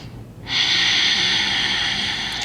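A slow, deep breath taken during a seated chair yoga session for seniors: a soft, steady airy rush that begins abruptly and holds evenly for about two seconds, close and alone.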